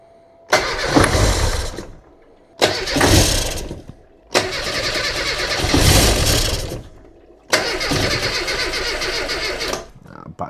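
A Reliant Robin MK2 engine is cranked with choke in four loud, close bursts of a couple of seconds each, separated by short silences, without catching to run on its own.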